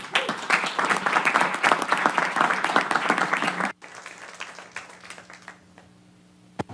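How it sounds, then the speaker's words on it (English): A crowd at a conference claps loudly for a few seconds, then the applause cuts off abruptly, leaving a faint hum and a few scattered sounds. "Let's give him a round of applause."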